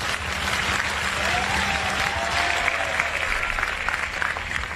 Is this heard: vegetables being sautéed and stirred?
no